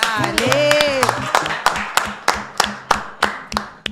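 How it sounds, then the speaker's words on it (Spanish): Studio audience clapping to welcome a guest on a talk show, starting under a host's voice and music, then settling into a steady rhythmic beat of sharp, unison claps that grows more distinct as the voices drop away. "Fuerte el aplauso."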